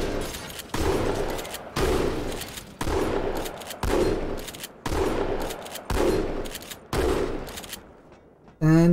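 Classic shotgun from Halo 2 Anniversary fires about eight loud, evenly spaced blasts roughly one second apart, each a sharp boom with a short ringing tail, close and alone, ending in a brief mechanical whir.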